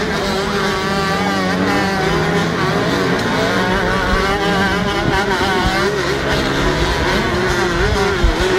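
Youth motorcycle racing on a rutted dirt track with big hills, engines droning and revving continuously at moderate distance, with no talk over it.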